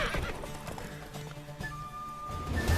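Horse hooves clip-clop at a steady gallop in The Witcher 3, with a whinny and game music layered underneath, fairly close and continuous.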